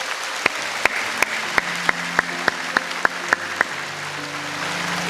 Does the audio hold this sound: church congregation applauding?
yes